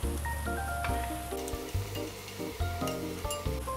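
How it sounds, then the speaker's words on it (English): Onions and garlic sizzle in a pan while being stirred, a steady close frying hiss with light scrapes, partly covered by background music tones. "Keep stirring because I'm afraid that I'm going to burn my onions and garlic"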